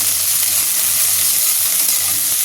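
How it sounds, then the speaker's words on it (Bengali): Cauliflower florets frying in oil in a home kitchen pan, a steady, dense sizzle that stays loud and even throughout with no voices. "চলো ফুলকপিটাকে একদম লাল লাল করে ভেজে নিই"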